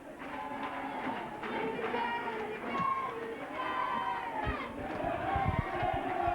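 Football crowd at the Polikoff Cup Final between Edenderry Town and Lissadel cheering the team: a steady, rolling roar from the stands with a match commentator talking over it throughout.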